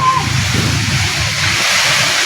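Water sprayed by firefighters onto a blaze at Antipolo Cathedral, a steady loud rushing hiss of spray and splashing that runs continuously and close throughout.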